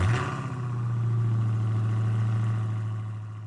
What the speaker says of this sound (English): And I've also got a car starting.